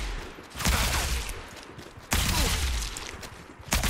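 Gunfire from a weapon in a third-person shooter game, with loud bursts of rapid shots, a long volley, a pause, then another sustained burst and a short final one.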